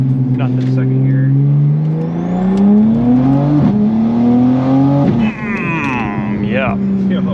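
A tuned BMW M240i xDrive making 830 wheel horsepower, with a 6466 top-mount turbo, pulls hard in second gear, the engine note rising loudly and steadily from up close with brief shifts and turbo whistle, and voices over the roar.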